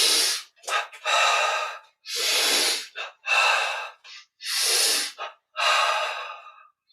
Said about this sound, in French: on a une double inspire, double expire.